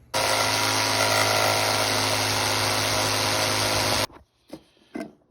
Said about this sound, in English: on your jigsaw, it's good if you have a finer blade than I have